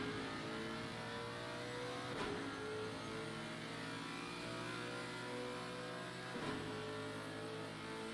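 A pink Lamborghini GT3 race car in Assetto Corsa Competizione at Zandvoort, Netherlands, holds a steady droning engine note with rising and falling revs, faint and continuous, with two brief shifts in pitch.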